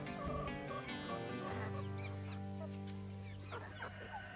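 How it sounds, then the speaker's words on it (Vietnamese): Chickens, hens and roosters in a rural Vietnamese yard, cluck faintly and intermittently over a steady low background hum. "Mình được 13 gà mái, 6 gà trống."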